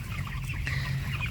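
A crowded coop of broiler chickens about 29 days old, packed tightly together, fills with a steady chorus of low clucking and murmuring, continuous and close, with no talk.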